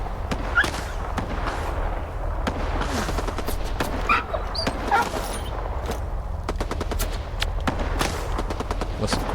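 Dogs bark amid rapid machine-gun fire in the video game STALKER 2, short sharp bursts and yelps overlapping in a dense, noisy firefight.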